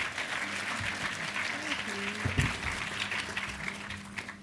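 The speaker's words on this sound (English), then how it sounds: "let's give them a very warm round of applause" An audience at a creative industries and climate emergency panel session gives a warm round of applause, steady crowd clapping with a faint voice briefly underneath.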